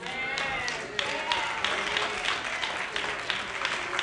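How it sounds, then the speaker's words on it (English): Scattered hand claps ripple through a church congregation during a sermon, uneven and moderately close, with a few sharper claps standing out over a steady room murmur. "I got 18 to 22 hand claps over here and about maybe 8 or 9 over here."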